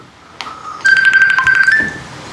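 A cellphone ringtone plays loud and close, a bright synthetic melody of sustained electronic tones with a brief chime before it, ending in a short rustle.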